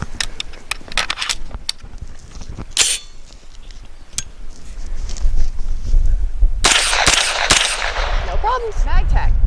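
Sig P320 pistol-caliber carbine firing Honor Defense 100 grain frangible hollow point rounds on a range: a string of sharp, loud gunshots spaced irregularly, some in quick bursts, with a denser flurry of shots near the end.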